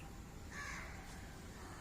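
A male crow building its nest in a tree gives a single faint caw in the middle of a quiet outdoor background, with no other calls around it.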